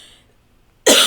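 One sharp, loud cough bursts out abruptly near the end, following a stretch of near silence with only faint fading tones.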